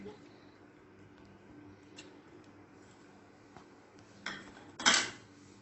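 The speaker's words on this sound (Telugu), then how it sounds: "అందులో మనం ఇప్పుడు చికెన్ యాడ్ చేసుకొని మిక్స్ చేసుకుందాం" A chicken and egg mixture worked in a bowl for chicken Manchurian, giving faint scrapes and clinks that end in two sharper utensil knocks near the finish, with no talking.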